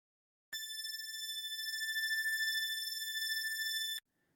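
A single bright, steady synthesizer pad tone with chorus, from the Surge XT plugin, holds for about three and a half seconds, then stops abruptly into silence.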